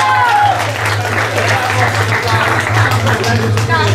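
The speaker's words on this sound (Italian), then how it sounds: "Applauso." A crowd at a mountain slalom car race applauds the winner, brisk clapping from many hands over a low steady hum, with a voice talking faintly through it.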